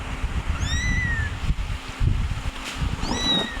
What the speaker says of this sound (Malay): Comel juga kucing ni.